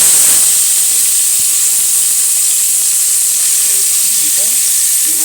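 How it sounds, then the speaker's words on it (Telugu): Soya chunks frying in a pan: a steady, loud hiss and sizzle throughout with occasional faint stirring scrapes. "దాన్ని కొంచెం బ్రౌన్ అయిన తర్వాత మిల్ మేకర్ వేసుకోవాలి."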